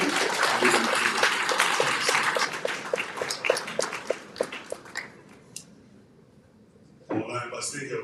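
A forum audience at a university partnership event gives a round of applause: loud, full clapping that thins into scattered claps and dies away, a brief lull, then a voice starts talking.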